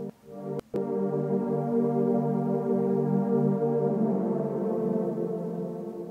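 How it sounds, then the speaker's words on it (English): Isolated reverb return of a synth pad and lead sounds as a quiet, washed-out ambient drone with smeared sustained tones, preceded by a couple of brief clicks near the start, faint and steady throughout. "So if we listen just to the reverb, it should sound like this."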